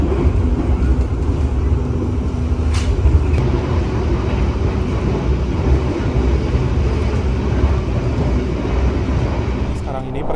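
The Argo Bromo Anggrek train pulling out of Bojonegoro station, a loud continuous low rumble of wheels and engine with a faint brief squeal, heard close and unbroken.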